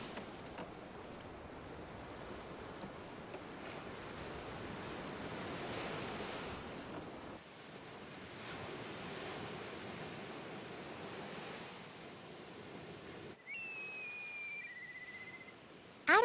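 Ocean waves washing on a seashore by a fishing village in an animated folk tale, a soft continuous surf wash at low level with a brief gap partway, no voices.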